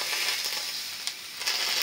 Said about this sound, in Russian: Сковородку сбрызнула маслом растительным и положила кабачки